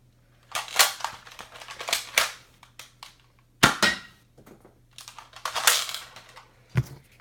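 An X-Shot toy dart blaster fires in a quick series of sharp snapping shots and plastic clacks, close and crisp, with brief handling noises between them.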